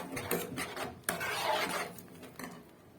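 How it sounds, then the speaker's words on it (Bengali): Spice paste (masala) stirred and fried with a little sugar in a pan, giving scraping, rasping strokes of a spoon against the pan's surface at close range, with some uneven pauses and no talking. "আর দেব অল্প চিনি দিয়ে পুরো ভালো করে কষাবো।"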